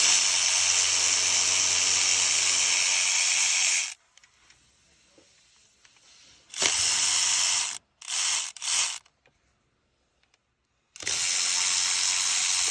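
Bursts of steady hissing, ratcheting noise as a ratchet removes the 13 mm water pump bolts on a 2005 Mercury Grand Marquis start and stop several times, separated by near silence, close and fairly loud.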